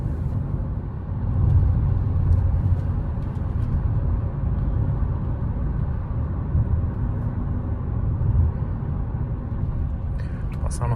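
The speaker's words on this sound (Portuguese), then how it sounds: "A vantagem do CVT, eu giro lá embaixo e o carro ganhando velocidade." Fiat Cronos Precision 1.3 CVT running on ethanol, accelerating on a highway: low steady road and engine rumble with tire noise, rising slightly as speed builds, heard from inside the cabin.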